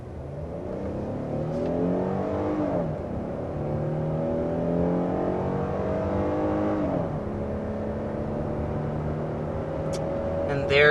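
A 2023 Hyundai Palisade SUV accelerates uphill to 60 mph, its engine note climbing steadily and dipping twice at gear changes, loud and continuous through the run.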